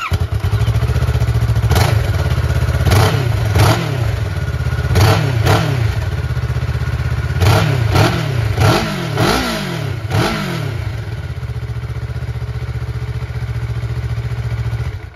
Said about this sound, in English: I'm gonna include a video right here showing you guys the startup and rev. This is what it sounds like completely stock